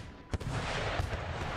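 Musket volleys from line infantry and militia in Empire: Total War, with a sharp report near the start and another about a second later over a steady battle din.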